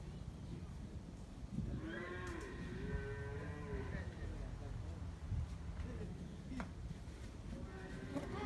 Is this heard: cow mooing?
yes